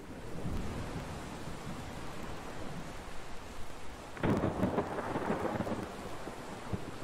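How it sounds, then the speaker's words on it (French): Wind and a deep rumble of thunder from the video game Exo One, a faint airy wash that swells into a louder rolling crash midway through. "Mais j'entends des bruits de vent, de tonnerre"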